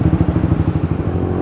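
A Yamaha XSR motorcycle idles up close, its exhaust giving a steady, loud low-pitched burble with quick rhythmic pulses and no talk over it.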